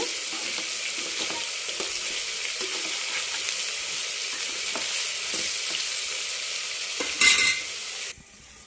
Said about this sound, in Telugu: ఉల్లిపాయలు వేగినాయి